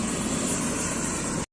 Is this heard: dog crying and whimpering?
no